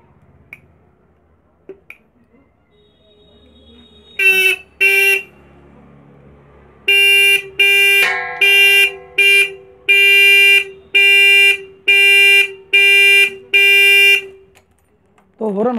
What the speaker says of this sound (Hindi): तो हॉर्न हमारा बजने लग गया है।